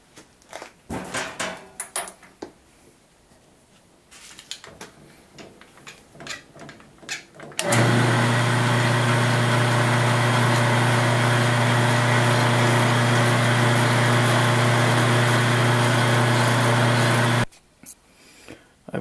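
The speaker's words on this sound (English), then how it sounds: "I'm going to mill this approximately an eighth of an inch deep" A milling machine cutting a steel part about an eighth of an inch deep, starting with scattered clunks and handling noises, then a loud, steady motor hum and cutting whine for about ten seconds before stopping abruptly.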